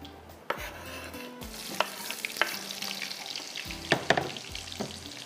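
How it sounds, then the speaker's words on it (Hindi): Chopped onions tipped into hot oil in a pan for barbecue chicken, sizzling and frying steadily with a few stirring scrapes and clinks of a utensil against the pan. "यहाँ पर है हमारे पास प्याज, ये हम डाल देते हैं"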